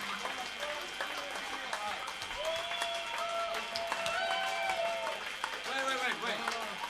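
A concert crowd at a farewell show in Amsterdam applauds and cheers, a steady roar of clapping with shouting voices and whistles over it, moderately loud throughout.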